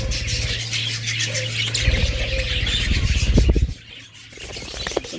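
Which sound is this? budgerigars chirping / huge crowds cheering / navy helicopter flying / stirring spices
budgerigars chirping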